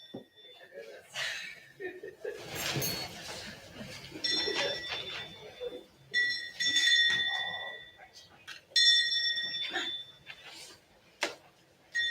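A small handbell given as a Volunteer of the Month award at a public board of education session keeps ringing in bright, repeated jingles. Speech and chuckling from people nearby mix in.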